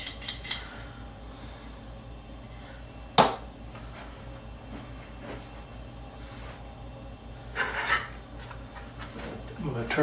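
Faint, intermittent rasping of a file sharpening a small part on a scale model build, with a few light clicks and taps of tools nearby and no talk.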